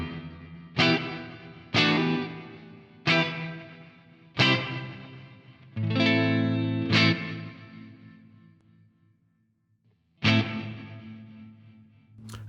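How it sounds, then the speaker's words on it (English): Reverb-drenched guitar chords struck one at a time through iZotope Neoverb, each ringing into a long, muffled, dark tail with little high end; a final chord sounds after a brief silence. "Listen now for the top end on the reverb."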